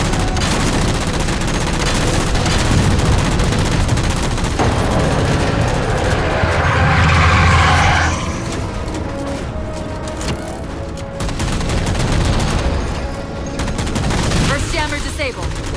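Gunfire in Halo 4 as enemy jammers are shot down: dense, continuous bursts of automatic weapon fire with booming impacts, loud and close throughout, with a voice speaking over it.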